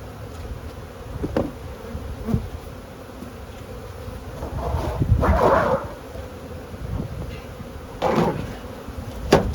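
Honeybees hum densely around a hive being split, a continuous close buzz with occasional louder swells as bees fly near, broken by sharp knocks and handling sounds.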